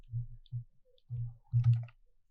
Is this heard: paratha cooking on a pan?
no